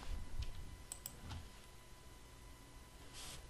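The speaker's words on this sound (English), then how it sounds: "Okay, so let's press the same key to escape." A few quiet key presses on a computer keyboard, isolated soft clicks over a low, steady room hum with no talking.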